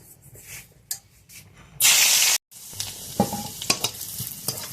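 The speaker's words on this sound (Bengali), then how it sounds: "রসুন কুচি দিয়ে দিচ্ছি" Chopped garlic hits hot oil in a wok with a loud, brief hissing burst, then settles into a lighter sizzle with scattered crackles and stirring taps.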